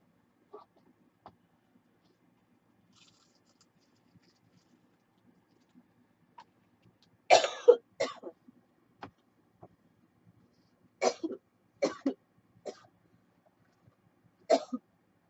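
A woman pausing while finishing painted envelopes gives several separate coughs, bursts at about 7.5, 8, 11–12.5 and 14.5 seconds, fairly close and moderately loud, with near silence between them and no talk.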